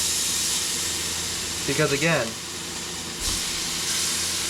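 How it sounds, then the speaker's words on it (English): Food sears and sizzles in a hot pan on the stove, a steady close hiss that runs throughout, with a brief spoken phrase over it. "I'll wait for the sizzling to kind of start increasing a little"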